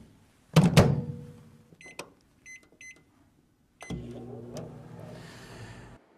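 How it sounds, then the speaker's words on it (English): A microwave oven heats a dish of butter, with a thud and a series of short beeps before the oven starts, then a steady low hum runs to the end. "We'll put it in the microwave for 1 minute."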